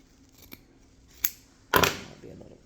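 Scissors snip through folded paper for an Easter basket, making three crisp cuts that grow louder and longer, the last one a drawn-out slicing sound, in a quiet room.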